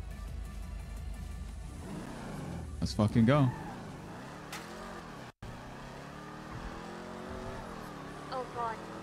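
A car's engine revs and surges as it pulls away, rising in pitch through a couple of hard accelerations and then settling into a lower drone, with people talking and shouting over it inside the cabin.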